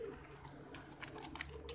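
A pigeon, a Kasuri cross, coos softly nearby in a quiet setting, with low, gentle cooing notes and faint rustling and background hum.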